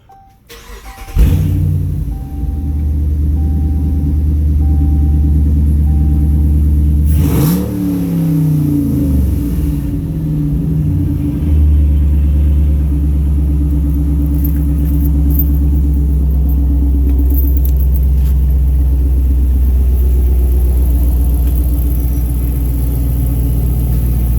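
A car engine starts up and runs loudly and steadily, with a brief rev early on, droning continuously at close range.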